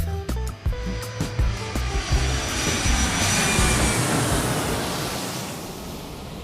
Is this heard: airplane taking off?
yes